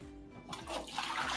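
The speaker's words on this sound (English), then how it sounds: "Just gonna get it quickly under cold water" Cold tap water gushes over freshly cooked stir fry noodles, a sudden rushing splash that starts halfway through and stays loud and close to the end.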